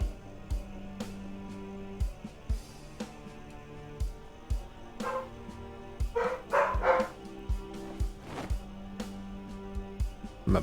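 Dogs in a zombie-survival game bark in short, repeated bursts with brief gaps between them, fairly close and clear, with a couple of louder clustered yelps midway and no talking.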